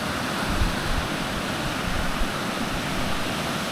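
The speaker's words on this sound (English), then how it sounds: "there's no way would I be getting over this river. Looks deep, fast." A deep, fast river in flood in the Scottish Highlands, swollen by heavy rain near a waterfall, roaring as a steady, dense rush of water close by, with no talking.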